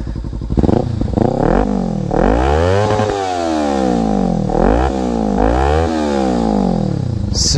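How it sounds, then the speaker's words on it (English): A modded Kawasaki Ninja 300 motorcycle fires up and is revved hard several times, each loud, close blip climbing and falling back to a rough idle between them. "Here, I could give you a little start up and I'll go ahead and rev it"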